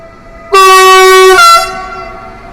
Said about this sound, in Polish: uwaga na uszy, bo jedzie Intercity Chopin